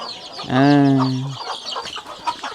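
Chicken in a remote hillside village yard, one loud, close, drawn-out harmonic call lasting about a second, followed by quieter clucks and background yard noise.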